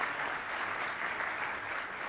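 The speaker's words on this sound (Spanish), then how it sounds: "Me gustaría pedirles un aplauso, por favor, a nuestros expositores." Steady audience applause for the speakers at a seminar on the value of information in decision-making, an even wash of clapping throughout the short moment.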